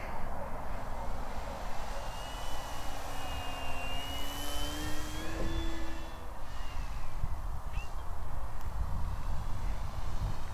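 An FMS Beaver 2000mm V2 RC model plane flies overhead, its electric motor a steady high whine rising and falling in pitch over a continuous broadband rush.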